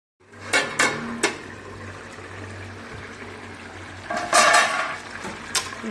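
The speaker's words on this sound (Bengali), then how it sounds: "আলুগুলো আমি ঘেঁটে দিচ্ছি" Potatoes and banana flower (mocha) stirred in a cooking pan: a spoon scrapes and clatters against the metal in a few distinct strokes over a low sizzling hum.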